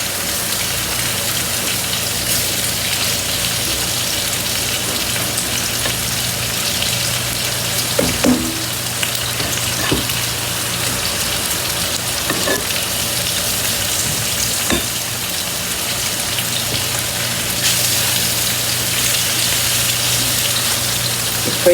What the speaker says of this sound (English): it doesn't saute the way you want unless it's on a high flame